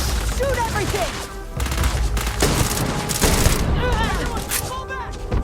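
Heavy gunfire during a firefight in the video game Starfield, with rapid volleys and bursts of shots over a dense battle din, shouting voices mixed in.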